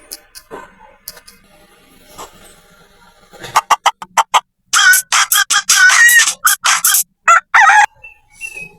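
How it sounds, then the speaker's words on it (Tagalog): A chicken sound effect from the CapCut editing app plays: a rooster's cock-a-doodle-doo crowing and clucking in loud bursts after a quieter start with faint clicks. "Punta ka dito sa audio, tapos clip, sound effects, chicken."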